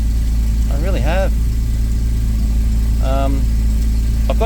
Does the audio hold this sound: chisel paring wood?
no